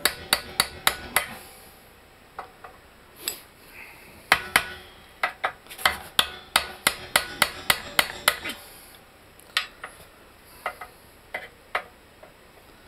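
A hammer whacks a crushed control arm bushing on a VW Mk4, giving many sharp metallic strikes in quick irregular bursts, close and loud, with short pauses between volleys.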